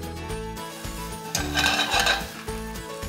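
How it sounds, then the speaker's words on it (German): Bacon for spaghetti carbonara goes into a pan to fry in its own fat without added oil, with a soft sizzle, a kitchen tool clinking against the pan and brief stirring, and no voices. "So, und dann kommt der Speck einfach so in die Pfanne"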